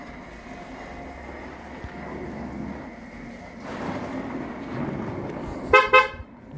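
Toyota Vellfire minibus pulling away outdoors, a low engine and road rumble swelling, then two short honks of the horn near the end, with faint voices in the background.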